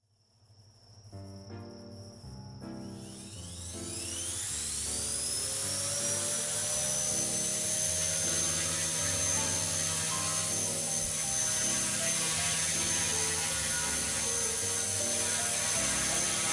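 The motor of a T-REX150 radio-controlled helicopter spools up during a flight test. It climbs from faint clicks into a rising whine over a few seconds, then holds a steady, loud, high-pitched drone with no talking.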